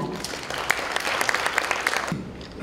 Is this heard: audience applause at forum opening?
yes